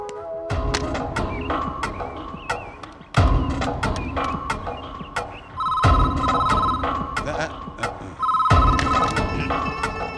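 A telephone rings in repeated bursts, four rings spaced a couple of seconds apart, loud and close.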